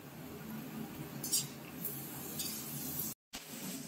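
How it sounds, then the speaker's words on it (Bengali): A soft, quiet sizzle of carrots frying in a pan, with a few light scrapes of a utensil stirring. "এবারে গাজর দিয়ে একটু ভাজা ভাজা করে নিতে হবে"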